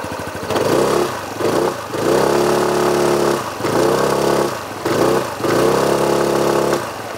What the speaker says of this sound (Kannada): ಸೊ ಗಾಡಿದು ಒಂದು ಸಲ ನಾವು ಇವಾಗ ಎಕ್ಸಾಸ್ಟ್ ನೋಟ್ ಕೇಳೋಣ.